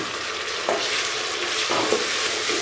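Tomatoes fry with light-browned onions in a pan for a mutton trotters (bakre ke paye) dish. A steady, loud sizzle runs throughout, broken by a few scraping stirs, with no voices.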